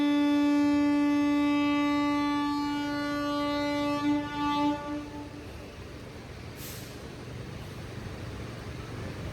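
A passenger train on the Nilambur–Shoranur line pulls out of Thuvvur station. Its loud, sustained horn sounds for several seconds and then gives way to a steady, rolling rumble of wheels and carriages.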